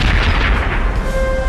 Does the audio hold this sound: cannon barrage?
yes